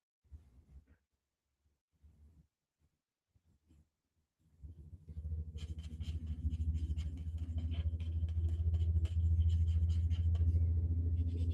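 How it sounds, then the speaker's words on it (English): Trucks driving down a hill outside, a few faint thumps first, then a loud low engine rumble rising in at mid-clip and building steadily until the end. "And trucks are noisy today, coming down the hill."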